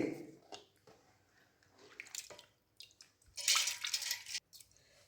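Water is poured into a vessel of black kavuni rice for a third rinse, a short splashing gush after scattered drips and soft clinks, close and fairly quiet.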